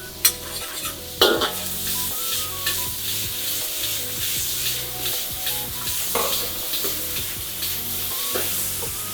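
Scallops and corn sizzle and fry in a hot wok while a utensil scrapes and stirs, with a few sharper clanks against the metal.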